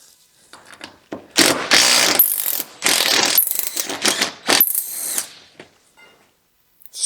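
Ratchet wrench working rusted bolts on a truck that keep spinning, in bursts of rapid clicking separated by short pauses, close and loud, with a few faint ticks near the end.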